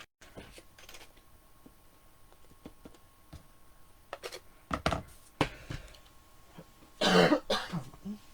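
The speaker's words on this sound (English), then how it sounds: "where did I get the cough?" A few sharp coughs and throat clearing, the loudest burst near the end, amid quiet room ticks and light clicking.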